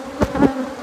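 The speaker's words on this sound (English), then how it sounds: "bees attack dark furry things" Bees swarming close around a dark furry stuffed animal, a loud buzzing drone with a couple of sharp swells as insects pass near.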